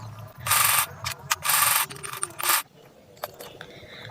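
A sewing machine stitches the waistband of a girl's baby trouser in three short whirring runs separated by brief pauses, followed by a few quieter mechanical clicks.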